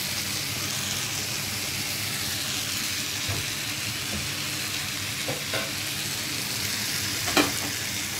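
Ampalaya and eggs sizzle steadily in a frying pan, a constant hiss with a few soft scrapes and clinks of stirring; no talking.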